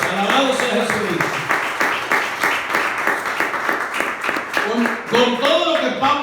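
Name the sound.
congregation applauding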